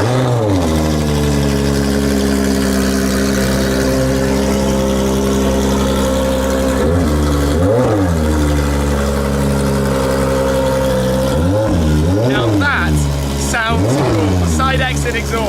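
A Ferrari 599XX V12 track car with side-exit exhaust idles loud and close with a deep, even drone, then is revved in short sharp bursts, several quick blips near the end rising and falling over the idle.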